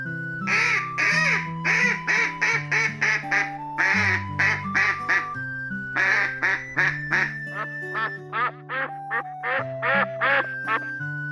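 Cartoon ducks at a farm pond quack in quick, evenly spaced bursts, a bright, clean run of repeated calls with a simple musical backing underneath.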